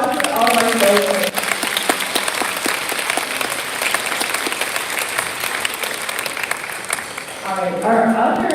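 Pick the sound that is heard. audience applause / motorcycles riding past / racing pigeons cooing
audience applause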